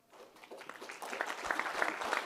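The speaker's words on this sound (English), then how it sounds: "Ladies and gentlemen, a round of applause once again" Conference audience applauding at an occupational health and safety underwater event, clapping that builds from sparse claps to steady, fairly faint applause from a crowd.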